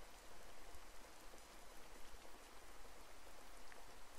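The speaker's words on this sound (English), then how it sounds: "It's raining." Soft, steady rain patters on a surface in the anime-style visual novel game Sakura Spirit, a faint continuous hiss of drops with no other sounds.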